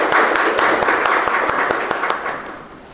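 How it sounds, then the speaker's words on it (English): An audience applauds the evaluator, Raj Rai, at a Master Your Mind meeting: dense, steady clapping that holds strong, then thins and fades toward the end with a few distinct claps standing out. "please give a good round of applause to the evaluator"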